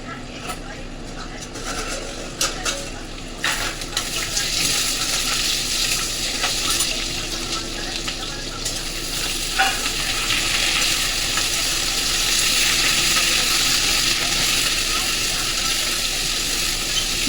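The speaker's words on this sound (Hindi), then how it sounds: "और किचन में आज मैंने बनाई आलू और शिमला मिर्च की सब्ज़ी।" A potato and bell pepper curry frying in a home kitchen pan, a constant loud sizzle with occasional scraping stir strokes, lasting throughout with faint background voices underneath.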